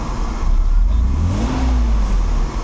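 A Mercedes R129 300SL engine, recently repaired after an oil distributor fault, free-revs loudly nearby, rising in pitch and then falling back, with no talking.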